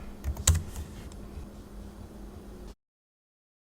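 Quick bursts of keystrokes on a computer keyboard as a username and password are entered, close and crisp with a sharper clack near the start, ending abruptly in silence.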